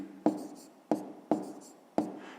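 A pen scratches on paper in four quick, crisp strokes spaced about half a second apart, close and quiet with nothing else heard.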